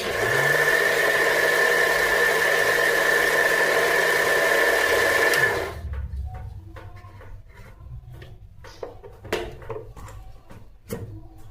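A mixer grinder jar churns cream into butter with a loud, steady motor whir for about five seconds, then stops, leaving light knocks and kitchen handling sounds.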